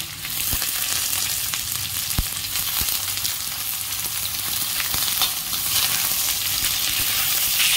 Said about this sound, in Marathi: भाज्या छान शिजवून घेते आणि थोडी मीठ घालते आधी